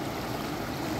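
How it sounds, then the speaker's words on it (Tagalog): A river current flows past a lake island in Canada, giving a steady, broadband wash of moving water that stays even and close throughout. "ang ganda ng agos"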